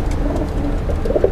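Fancy pigeons in a loft coo in a soft, low, rolling burble through one brief stretch, fairly close and with no voices.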